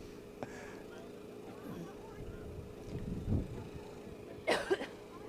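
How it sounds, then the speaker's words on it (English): A couple of faint coughs sound against outdoor wind and a low engine rumble at a beachside K9 competition, one muffled and a sharper one near the end. "Sorry about the coughing."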